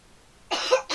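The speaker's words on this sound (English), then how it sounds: "it's going to be your cough" A single short human cough, close and fairly soft, followed by a brief second burst in an otherwise quiet room.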